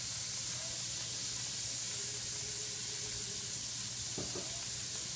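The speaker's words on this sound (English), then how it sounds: "now we put a little bit more oil." Oil heating in a pan while cooking chicken scarpariello gives a steady, soft sizzling hiss that carries on evenly throughout, with a couple of faint clinks near the end.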